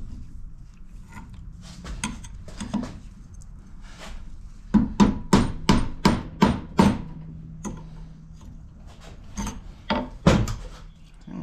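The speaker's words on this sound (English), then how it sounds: "We'll see how good we can do it with a hammer" Hammer blows on a punch knock out the center support bearing of a Dodge Ram 3500 truck: scattered taps at first, then a fast run of about seven sharp metallic strikes, followed by a few more isolated hits.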